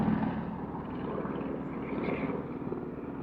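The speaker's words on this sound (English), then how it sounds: "I don't know if you guys can hear the helicopter up there." A helicopter flies overhead in an urban setting, its rotor and engine noise giving a steady, muffled, moderately distant drone that swells slightly midway through.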